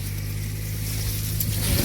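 A tractor engine rumbling steadily as it arrives in a wet field in the rain, a loud, close low drone that swells slightly toward the end.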